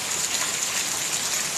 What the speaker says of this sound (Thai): ฝนตกฝนตกต้องระวังลื่นด้วยนะ